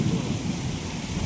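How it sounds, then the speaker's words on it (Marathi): Heavy monsoon rain in a storm, a dense, even roar of downpour close to the microphone, brief and loud with no voices. "एवढा पाऊस लागतोय बघा."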